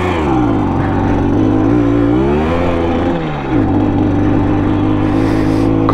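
A freshly finished Simson moped, cold on its first start, revs up loudly and close by, its engine pitch climbing, dipping and settling into a steady buzzing drone.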